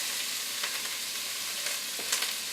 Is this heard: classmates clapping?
no